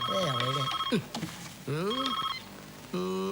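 Telephone ringing loudly in a film scene, repeated electronic rings with short gaps between them and no talk over them.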